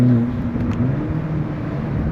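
Volkswagen Golf GTI TCR engine driven hard, a steady close drone with a low, gruff tone that stays loud throughout, with no talk over it.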